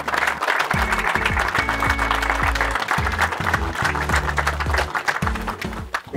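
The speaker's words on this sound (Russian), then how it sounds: "Ваши аплодисменты." A crowd applauds steadily at a fishing tournament award ceremony, the clapping dense and close throughout, with a loud amplified announcement or music running under it.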